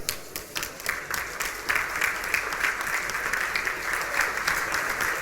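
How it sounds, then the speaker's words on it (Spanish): An audience at an election-series talk applauds with dense, steady clapping for several seconds, moderately loud in a hall. "Es bueno escuchar aplausos."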